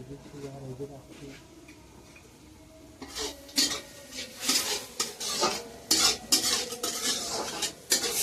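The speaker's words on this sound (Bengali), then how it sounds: "এরকমভাবে আস্তে আস্তে জাল দিয়ে ভাজবো" Leafy greens fried slowly in a pan with salt and turmeric, a soft sizzle with utensil scraping and stirring that grows louder partway through, close up, with a voice talking under it.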